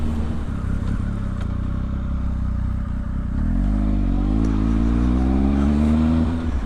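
Triumph Speed Triple RS motorcycle engine held at a steady, loud drone, then rising in pitch as the revs climb in an accelerating surge; close and continuous with no talking.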